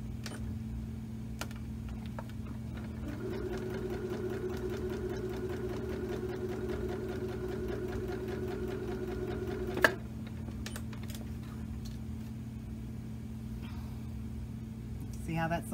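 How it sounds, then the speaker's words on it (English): A sewing machine stitches along the edge of a cross-stitch stocking, a steady mechanical whir running throughout at moderate level, with a brief sharp click partway through and faint room tone. "Put it on the machine and you're just going to sew right along that edge"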